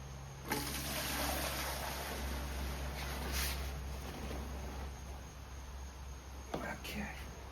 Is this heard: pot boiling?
no